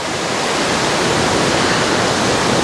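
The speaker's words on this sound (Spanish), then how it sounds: "les voy a mostrar la cascada" Waterfall at Roca Partida in Los Tuxtlas, Veracruz, a loud, steady broadband roar of falling water with no breaks and no voices.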